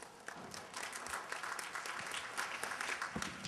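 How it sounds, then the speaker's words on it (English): Audience applause at a conference panel session, a steady wash of many hands clapping at moderate distance, fairly faint, continuing throughout with no talk. "Yeah, you can applaud."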